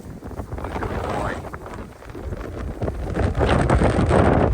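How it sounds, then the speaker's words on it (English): Strong gusts of a snowy New England windstorm buffet the microphone in rumbling, uneven surges that build louder toward the end, with no voices. "Very windy day."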